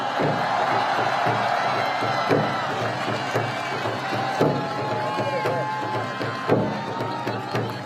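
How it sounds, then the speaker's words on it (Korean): Crowd clapping and cheering at an outdoor election campaign rally, a continuous roar of applause with whoops and scattered shouts under an amplified voice, steady throughout. "여러분, 큰 박수 부탁드리겠습니다"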